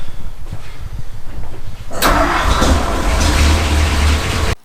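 A car engine cranks after a quiet stretch and catches with a sudden burst, then settles into a loud, steady idle close by before cutting off abruptly at the end.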